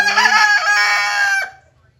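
A rooster crows once, loud and close, in a single long harsh call that cuts off sharply, with a hen's brief cluck underneath at the start.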